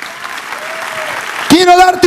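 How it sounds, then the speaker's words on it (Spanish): Soft congregational applause in a church hums along at low level for about a second and a half, then fades as a voice cuts in over it. "Dale un fuerte aplauso a Dios."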